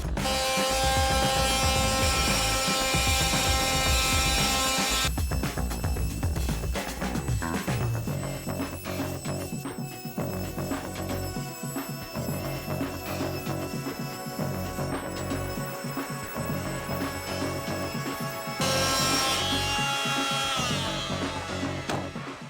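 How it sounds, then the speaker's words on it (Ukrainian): A loud, buzzing Dnipro-M MF-42SEQ oscillating multitool at maximum speed grinds steadily through ceramic tile for a long stretch, its harsh rasping tone shifting slightly as it cuts. "Поставив насадку, закріпив заготовку. Оберти залишаємо попередніми, максимальними, і починаємо різати."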